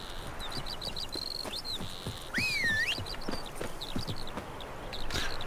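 A horse trots in The Witcher 3: Wild Hunt, a steady clip-clop of hooves under a layer of chirping birdsong, moderately loud and close throughout.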